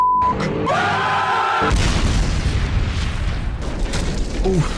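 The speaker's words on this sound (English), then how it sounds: "You blew up the cafe." A cartoon explosion destroys a cafe with a loud booming blast, followed by rumbling debris and crashing noise, with faint voices mixed in.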